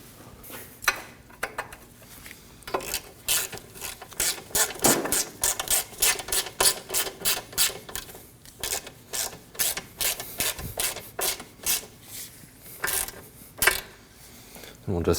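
A ratchet wrench tightens a ball joint nut on a 2003-2006 Subaru Baja front suspension, giving a long run of quick, even clicks with brief pauses between strokes, close and fairly loud.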